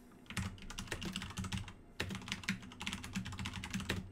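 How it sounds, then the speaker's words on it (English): Fast, forceful typing on a computer keyboard, dense clattering keystrokes in quick irregular bursts, close to the microphone with no talking. "I hope that's not too loud on the microphone. Me slamming away on the keys."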